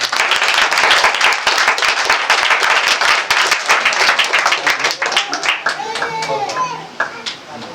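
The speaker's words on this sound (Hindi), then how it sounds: "ताली बजाए परमेश्वर।" A church congregation claps hands together in a loud, fast burst of many overlapping claps, with voices and speech mixed in and the clapping thinning out toward the end.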